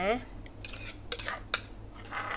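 A spoon scoops and clinks through Thai cucumber papaya-style salad in a bowl, a few separate metallic scrapes and taps, close and fairly quiet, with no talking.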